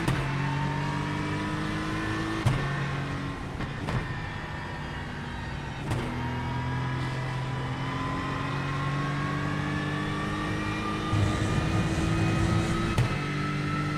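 A race car engine in an IMSA endurance racing video game drones and revs continuously, pitch climbing and dropping through gear shifts, with brief clicks between, loud and close, with no talking.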